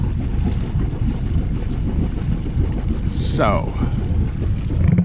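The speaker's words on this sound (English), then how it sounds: "The engines are running." Engines run aboard a sailboat getting ready to leave, a low steady rumble mixed with wind buffeting the microphone, with a brief short voice and a faint squeak midway.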